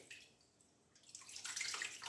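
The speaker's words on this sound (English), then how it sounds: "I need to wash my hands." Hands splashing and rubbing in a basin of cold salted water while making starch, soft trickles and swishes that swell from quiet to a closer, louder slosh near the end.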